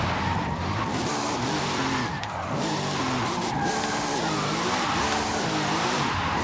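A car drifting with handbrake skids in Forza Horizon 5 produces a loud, continuous engine note that wavers in pitch through repeated left-right slides, with tire noise mixed in and no talking.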